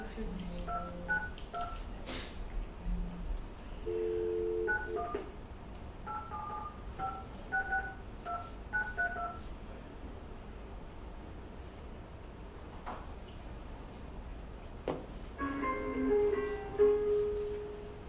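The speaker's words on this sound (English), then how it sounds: "All right, and Cooley is dialing in." A caller dials into a conference meeting line: short bursts of touch-tone keypad beeps, spaced irregularly then in a faster run near the end, over faint background hiss, with no one speaking.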